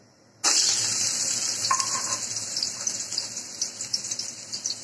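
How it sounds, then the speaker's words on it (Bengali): Chopped onion hitting hot oil in a pot for biryani pulao, a sudden loud sizzle that bursts in and then crackles and spits steadily, close up. "পাত্রে তেল গরম করে নিয়েছি, দিয়ে দিচ্ছি পেঁয়াজ কুচি"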